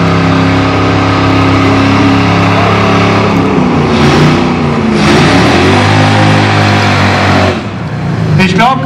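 A Mercedes S-Class on a quarter-mile drag strip at Aldenhoven, engine droning loud and steady with rising revs and a few shifts, heard close under a commentator's continuous talk.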